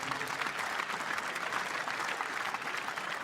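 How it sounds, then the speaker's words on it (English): Dense, continuous audience applause at the 2010 Canary Wharf squash quarterfinal, an even wash of many hands clapping, somewhat distant and soft. "So big applause for David."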